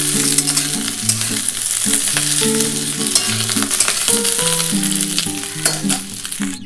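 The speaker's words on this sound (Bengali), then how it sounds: "আমার কিন্তু হালকা করে শিমটাও ভাজা হয়ে গেছে" Flat beans fry lightly in a pan for a vegetarian vegetable curry, with a constant close sizzle and occasional stirring over a soft melodic tune playing in the background.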